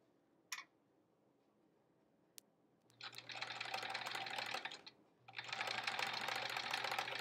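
A sewing machine stitches quilt pieces in two steady bursts of rapid mechanical whirring after a quiet start with a click, pausing briefly between runs.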